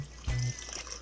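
Water from a kettle poured into a cooking pot of Jamaican-style curried goat, a short low splash and gurgle lasting a moment, fairly quiet, over soft kitchen room noise.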